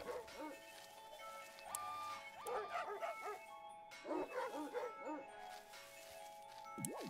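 Dog barking in the video game BOKURA: a run of short yips and barks in two bursts, mid-loud over steady game music and tones, with no speech.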